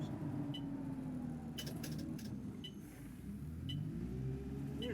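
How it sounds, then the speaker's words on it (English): A ZF gearbox whistle from a London Citybus C20 bus in the OMSI 2 driving simulator: a thin gliding tone rises and falls above a steady, continuous low engine rumble, with a few faint clicks. "It gives a little bit of like an old Allison gearbox whistle"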